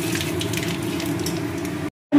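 Whole cinnamon, cloves, cardamom and black cumin crackle and sizzle in hot oil, a dense close frying hiss with fine popping, cut short by a brief break of silence near the end.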